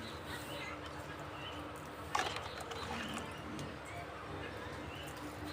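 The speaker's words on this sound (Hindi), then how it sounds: "बर्ड्स की आवाज़ आपको सुनाई दे रही होगी।" Distant birds calling and cooing softly in open air, with a single sharp knock partway through.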